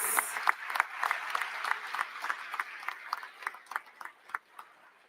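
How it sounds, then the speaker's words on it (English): Audience at a school renovation event applauds as the gathering closes, a crowd clapping with distinct individual claps standing out, gradually thinning and fading toward the end. "let's give everyone a round of applause."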